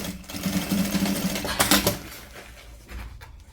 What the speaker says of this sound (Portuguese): Eu vou passar uma costura de cima, com retrocesso no início, bastante retrocesso, até a parte de baixo.